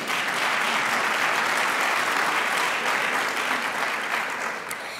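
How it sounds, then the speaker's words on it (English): An audience at an alumni hall of fame induction ceremony applauds, a full, sustained burst of many hands clapping that stays loud before thinning in the final moment. "That deserves a round of applause."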